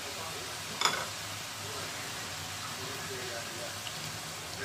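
Leeks frying in a pan with hot oil, a steady soft sizzle running throughout with one brief clatter of stirring near the start.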